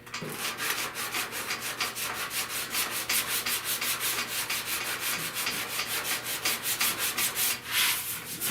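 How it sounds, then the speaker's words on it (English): A fender on a 1970 Buick Wildcat is hand sanded in quick, even back-and-forth strokes, a close, rhythmic rasping that carries steadily and alone throughout. "So I'm going to just sand this slowly and lightly."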